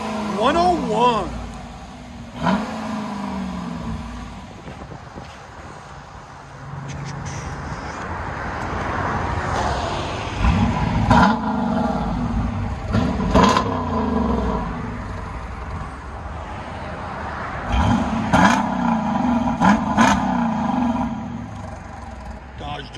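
A 2020 Dodge Durango R/T with a 5.7-liter HEMI V8 and Black Widow race exhaust with factory resonators, revving in loud repeated bursts that rise and fall, with a steady idle rumble between pulls.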